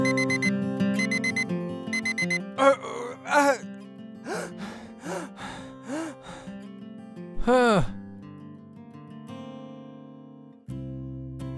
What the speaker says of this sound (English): the loud alarm really startled me